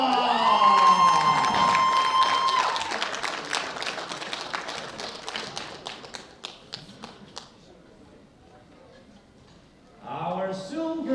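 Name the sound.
audience applause and cheering for a medalist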